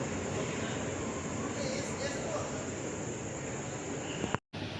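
Interior of a moving passenger train at night, a steady broadband rumble and rush of the carriage running along the rails, constant and fairly loud, with a brief dropout near the end.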